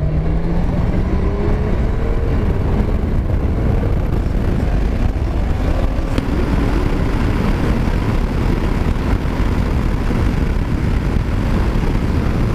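Honda Gold Wing DCT 2023 touring motorcycle accelerating, a steady loud engine drone with rising tones swept by heavy wind noise throughout.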